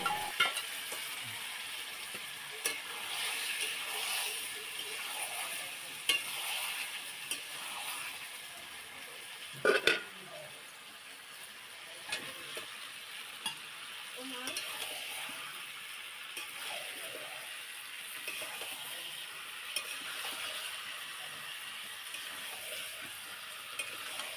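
Marinated chicken and cut potatoes fry in a pan with a steady, close sizzle throughout, broken by intermittent scrapes and knocks of a stirring utensil; no one speaks.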